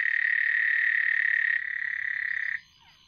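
A frog caught at the hip by a snake gives a continuous loud, buzzing high trill that steps down slightly in loudness midway and then cuts off abruptly, leaving near silence.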